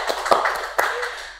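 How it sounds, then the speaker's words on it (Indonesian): A few quick hand claps from a small group on an indoor podcast set, faint and brief, with uneven spacing across about a second. "Tepuk tangan dulu."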